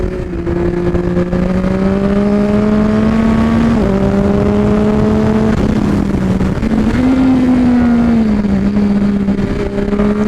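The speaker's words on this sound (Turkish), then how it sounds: "kendisi gaz falan patlatıyor böyle gaz veriyor ara gaz falan veriyor muazzam" A Triumph Speed Triple RS motorcycle engine drones loudly and continuously nearby. Its pitch rises and dips several times as the throttle is blipped, with no voices.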